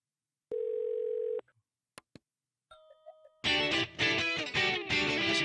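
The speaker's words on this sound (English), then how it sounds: "The phone is almost like polyrhythmic against the groove." A telephone dial tone plays as a steady electronic hum, followed by a few clicks, short tones and then a burst of dense music, all part of a song.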